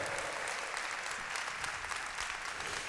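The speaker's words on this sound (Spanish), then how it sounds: "Dale fuerte el aplauso." Congregation applauding in church during a sermon, sustained dense clapping from a crowd, even and continuous throughout, heard alone without speech.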